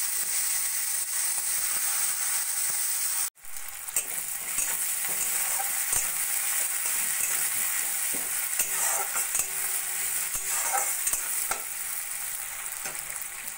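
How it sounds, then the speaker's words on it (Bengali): Thinly sliced medium onion with cumin seeds frying in hot oil in a pan, a steady bright sizzle with stirring scrapes, briefly cut off near the start then resuming continuously, close and alone. "ফোড়ন সোনালি হলে দিয়ে দেবো একটা মিডিয়াম সাইজের পেঁয়াজ পাতলা পাতলা করে কেটে নেওয়া"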